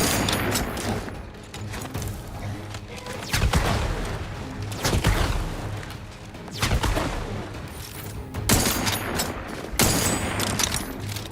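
Gunfire in the video game The Outer Worlds, loud bursts of shots and booms recurring every couple of seconds over a constant rumbling background, with no talk.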